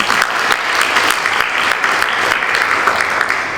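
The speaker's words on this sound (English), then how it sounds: "we'll give her a round of applause in a second" Steady audience applause at a PTSA lifetime awards evening, a dense, even wash of many hands clapping that holds at a constant level from start to finish with no voices over it.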